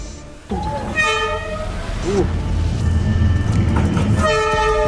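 A train rumbles past close by with a steady heavy roar, its horn sounding in repeated toots over the clatter.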